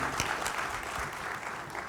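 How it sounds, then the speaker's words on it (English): An audience at an honor orchestra concert applauds a standing row of young musicians, with soft, steady clapping heard from a distance. "Yeah, round of applause."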